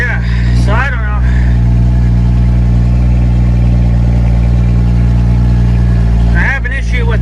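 A John Deere L130 lawn tractor engine runs wide open from a sticking gas pedal, a loud, steady, close drone with strong low harmonics held throughout, while people talk over it near the start and end.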